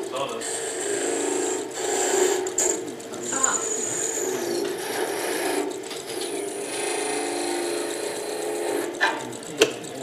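Skew chisel cutting shavings from a wooden whistle spinning on a wood lathe, a continuous close scraping rasp with periodic rhythmic ticks and swells, a few sharp knocks near the end, and a voice briefly audible underneath.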